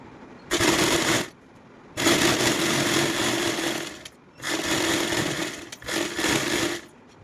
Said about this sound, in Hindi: इसको पकड़ेंगे और इस तरीके से इसमें सिलाई लगाएंगे।